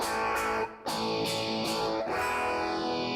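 An electric guitar played through a NUX Soldano amp model rings out in heavily distorted chords, loud and sustained. A short gap near the start breaks it, then the strummed chords continue and ring out under effects, with no talking.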